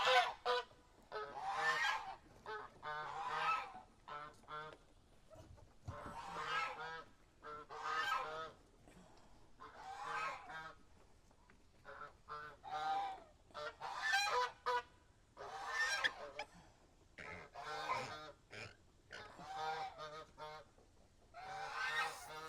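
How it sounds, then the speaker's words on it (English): Geese honking in a backyard flock at feeding time, loud repeated honks in bursts over about twenty seconds, close and insistent with short pauses between calls. "You gotta watch them geese, folks. They're unpredictable."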